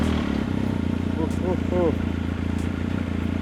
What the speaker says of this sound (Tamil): ஆனால் சிங்கிள் ஸ்டார்ட்டில் வந்து பார்த்திங்கன்னா வந்து வண்டி ஸ்டார்ட் ஆகிடுச்சு.